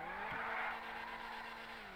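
Cheetah Classic car engine in GTA Online, a loud sustained roar holding a steady pitch, with a brief sharp blip near the start and a gradual slight fade toward the end, no voices.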